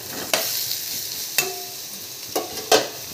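Eggplant slices frying in shallow oil over medium heat, a steady soft sizzle with a few sharp spatula scrapes and clacks as the slices are flipped, close and moderately loud, no talking.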